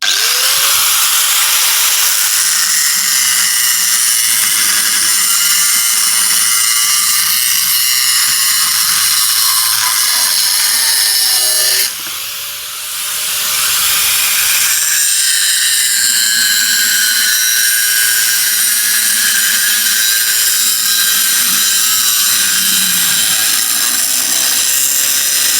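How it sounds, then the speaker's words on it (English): An angle grinder cutting off bolts on a Stuart dynamo, a loud continuous high-pitched whine and grinding that keeps going through the whole stretch, dipping briefly midway, with no talking. "let's get some bolts cut off. Angle grinder plugged in."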